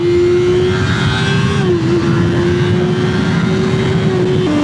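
Kawasaki ZX6R four-cylinder sport motorcycle heard up close, its engine holding a steady high-pitched howl, dipping briefly and then rising again, loud and constant throughout.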